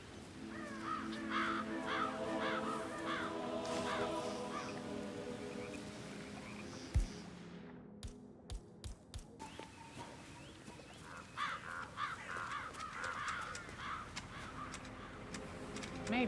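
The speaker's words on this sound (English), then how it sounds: "I'll never get rid of those stupid birds." Crows caw repeatedly in Hitman 3, harsh calls layered over busy game ambience, with a brief lull of sharp clicks and thuds midway before the cawing and background sounds return at a steady level.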